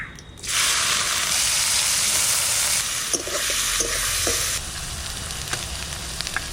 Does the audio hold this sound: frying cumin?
yes